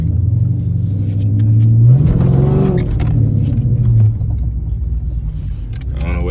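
A V6 car fitted with a quad exhaust revs at a car meet, a deep loud rumble that swells into a rising rev and then falls back to a steady throaty idle.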